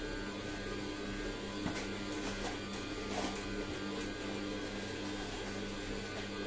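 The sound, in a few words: juice extractor running to finish extracting juice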